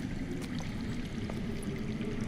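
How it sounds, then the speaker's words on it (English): Underground running water in the Game of Thrones video game, a steady low pouring and flowing rush with faint trickles, continuous and even, heard alone. "That's water. I hear water. From underground."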